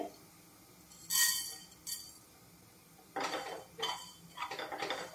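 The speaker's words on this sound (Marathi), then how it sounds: "कढई थोडीशी गरम झाली की ह्यामध्ये आपण जे धणे घेतलेले आहेत ना ते आधी इथे भाजून घेऊया" Coriander seeds dry roasting in a hot kadhai, with several short metallic scrapes and clinks of a spatula against the pan, spaced irregularly and close by, with no talking.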